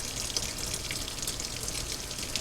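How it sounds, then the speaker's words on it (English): Fabric softener poured into a washing machine: a steady, even liquid splash and hiss runs throughout, faint and close with no pauses, and nobody speaks. "We're going to go ahead and pour in the fabric softener."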